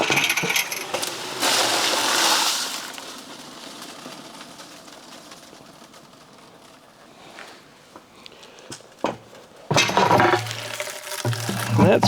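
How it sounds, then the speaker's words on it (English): Polished stones and water pour out of a giant rock tumbler in two bursts of loud, rattling clatter, one near the start and one at the end. A quieter stretch of occasional clicks and knocks falls between them. "I think I have a little more left in the tumbler here to dump"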